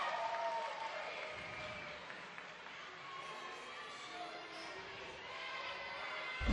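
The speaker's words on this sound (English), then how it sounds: "Well-deserved applause and congratulations for Mackenzie Martinez." At a college gymnastics meet between BYU and Utah State, a distant arena crowd gives soft, continuous applause mixed with crowd murmur, steady throughout the clip.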